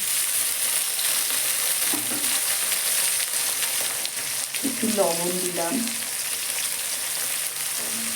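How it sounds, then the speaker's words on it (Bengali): Onion and tomato fry in a pan with clove and cinnamon for a fish curry, a steady sizzle running throughout with occasional stirring scrapes; a voice speaks briefly over the sizzle. "যাতে পেঁয়াজ এবং টমেটোটা তাড়াতাড়ি নরম হয়ে যায় এবং ভাজা হয়ে যায়"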